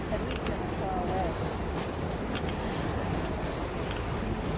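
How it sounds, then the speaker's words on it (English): Steady roaring blizzard wind in the video game Metro Exodus fills the scene, a dense broadband rush with gusty swells and no break, loud and close throughout. "Now that's what I call a blizzard."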